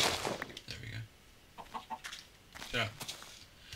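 A chicken in the Minecraft video game clucks in a few short, quick bursts at moderate volume, with other game sounds mixed in.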